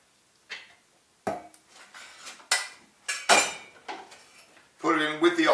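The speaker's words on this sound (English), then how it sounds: "you want to mix it around with the oil" A spoon scraping and knocking against a pan while mixing pesto into olive oil, a series of sharp metallic clinks and scrapes spaced irregularly, close and fairly loud, with a voice briefly heard near the end.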